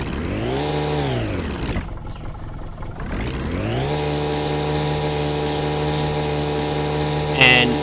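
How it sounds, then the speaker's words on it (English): A boat's engine in a video game starts and revs, a steady droning motor rising and falling in pitch, briefly cutting out before surging again, loud and close. "Start the engine."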